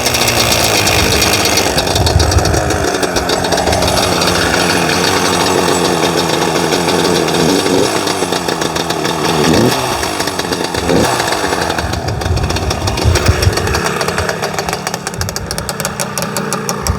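Abused Yamaha Banshee ATV two-stroke engine, jetted for Mexico, running steadily up close, a loud raspy buzzing drone with a rough, uneven edge and slight revving throughout.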